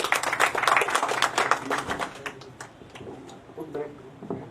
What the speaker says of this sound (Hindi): बहुत बहुत तालियों के साथ स्वागत किया जाए